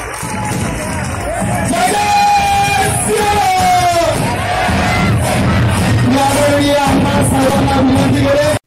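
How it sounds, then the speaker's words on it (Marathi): A large crowd at a Shiv Jayanti celebration in Sangamner yells, whoops and cheers loudly and continuously, with bursts of shouting and some banging throughout. "तर जोरदार टाळ्या झाल्या पाहिजे"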